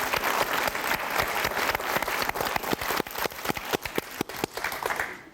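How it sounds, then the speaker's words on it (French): Lively studio audience applause on the French game show Motus, a loud close burst of many hands with sharp individual claps in a quick, partly rhythmic beat lasting throughout. "On va abréger vos souffrances et vous applaudir très fort."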